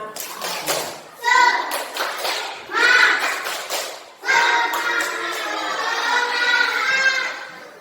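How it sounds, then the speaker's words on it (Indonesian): A class of children doing the tepuk semangat clapping chant in a classroom, voices chanting together in bursts with clapping, loud and close, with a short pause between phrases and a longer sustained final chant. "Coba tepuk semangat"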